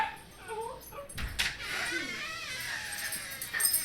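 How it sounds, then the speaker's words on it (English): A female dog whimpers and yips in excitement, with several short high whines and a brief thump, faint and a little distant. "Sorry about the doggy. She's getting a little excited."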